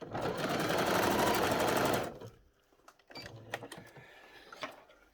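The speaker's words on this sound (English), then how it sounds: "we're just going to sew that pleat down to that mark" A sewing machine stitches a pleat down on a tartan doll skirt, its motor running loud and steady for about two seconds, then stopping, followed by quieter clicks and handling noises.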